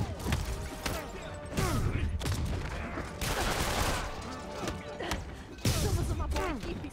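Gunfire bursts in the Spider-Man PS4 video game during a Black Cat heist mission, loud repeated volleys and crashes mixed with game dialogue and effects.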